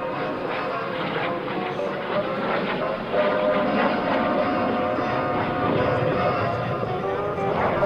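An F-86 Sabre jet fighter flies a barrel roll at an air force base open house, its engine a loud, steady broadband roar that swells slightly partway through, with a commentator talking over it.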